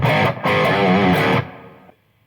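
Crunchy, distorted electric guitar through a Marshall JVM amp on its crunch channel, effects loop engaged and reverb on, strummed alone for about a second and a half, then a reverb tail fading out.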